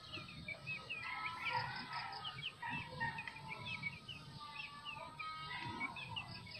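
Backyard chickens on a small farm, soft repeated clucks and chirpy calls scattered throughout at a quiet, moderate distance, with a steady low background hum and no talking.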